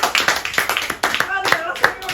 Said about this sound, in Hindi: चलो इनके ताली बजाओ